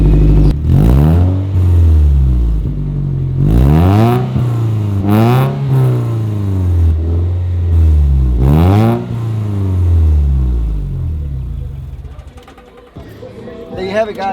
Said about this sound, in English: Do you mind if you turn on the engine so we can hear the purr of the beams engine?